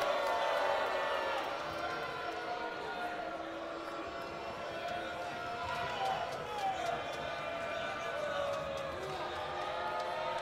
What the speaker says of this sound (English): Crowd letting the referee know what they think of the call.